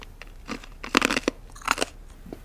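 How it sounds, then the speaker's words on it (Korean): Ice being bitten and crunched, several loud close crunching bursts in quick irregular succession, with no talk over them. "얼음 깨물었어"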